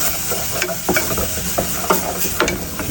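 Milk being stirred into a bechamel base for mushroom soup gives a steady close sizzle with soft scraping strokes of the spoon, continuous and fairly loud, with no voices.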